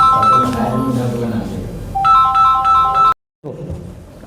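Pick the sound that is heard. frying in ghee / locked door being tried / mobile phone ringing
mobile phone ringing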